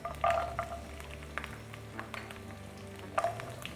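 Garlic, a hundred grams of it, sizzling in hot oil in a pan for a pork dish, with a steady low crackle and a few sharper clinks and bursts of frying noise near the start and end.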